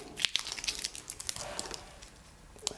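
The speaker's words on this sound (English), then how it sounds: "some ASMR sounds there for you with that plastic" Plastic wrap on a Surface Pro pen is peeled away in close, quiet crinkles and sharp little crackles, with irregular bursts over a few seconds and no speech.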